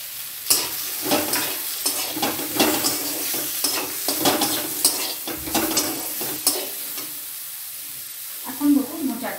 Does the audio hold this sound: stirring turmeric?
yes